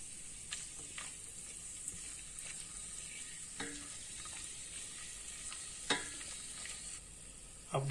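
Whole spices sizzle steadily in hot oil, black and green cardamom, cinnamon and cloves, with scattered clinks and scrapes of stirring and a couple of sharper pops, close and moderately loud with no talking.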